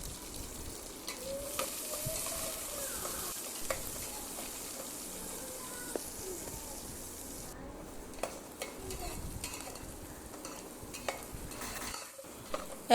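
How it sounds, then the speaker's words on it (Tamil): Onion and curry leaves frying in a pan for murungai keerai sambar, a steady low sizzle broken by repeated spoon scrapes and clinks against the pan, close up with no talk. "கூடவே கருவேப்பிலையும் நம்ம சேர்த்துட்டு நல்லா கலந்து விட்டுடலாம்"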